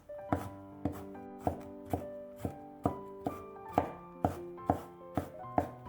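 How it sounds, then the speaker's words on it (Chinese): A knife chops peeled garlic cloves on a cutting board, first into slices and then into mince. About a dozen crisp, evenly spaced chops, close and clear, with no voices. "几瓣去皮的大蒜先切成片， 再改刀切成蒜末。"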